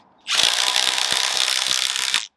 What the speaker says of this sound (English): We'll use the impact driver on that then.